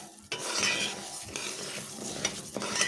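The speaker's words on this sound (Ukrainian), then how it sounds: "ми даємо сюди наш булгур сухим, не промитим. І добре перемішуємо." Dry, unwashed bulgur stirred in a pan with a little melted butter and oil, giving a steady gritty scraping and rustle of grains against the pan, close and continuous with a few sharper knocks.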